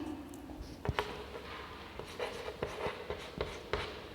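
Chalk or marker writing on a classroom board during an English lesson: faint, scattered taps and short scratchy strokes in a quiet room, with no talking.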